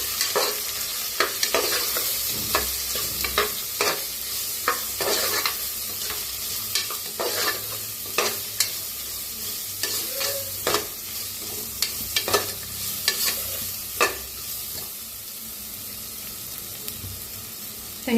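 A ground spice paste for masale bhat is roasted in a pan, with a steady sizzle broken by repeated scraping stirs of a spoon, loud and close, and no voices.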